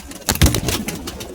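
Young pigeons, a female and a male, coo softly in a close, muffled burst among rustling noises at a pigeon keeper's loft.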